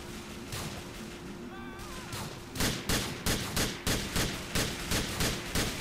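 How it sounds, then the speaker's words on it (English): Gunfire in Grand Theft Auto IV's LCPDFR police multiplayer mod: a rapid string of about a dozen loud, evenly spaced shots bursts out after a quieter stretch with faint voices. "Shots fired, be careful."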